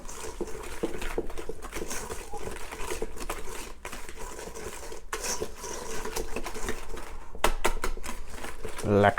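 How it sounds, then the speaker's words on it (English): A whisk beating egg yolk, sugar and mascarpone for tiramisu in a bowl: steady, continuous rhythmic scraping and tapping, fairly close, with light background noise throughout. "Egg yolk mixture with sugar and the mascarpone. We can whisk this together."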